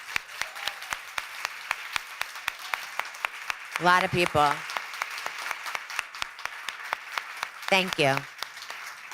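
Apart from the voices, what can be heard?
audience applauding survivors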